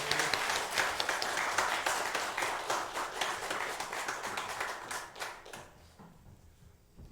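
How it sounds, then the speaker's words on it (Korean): A church congregation applauds together during a Sunday service, a thick wash of clapping that runs strong for several seconds and then thins out and fades to near quiet at the end. "하나님께 다시 한번 감사와 함께 우리 모두 영광의 박수를 올려드립니다."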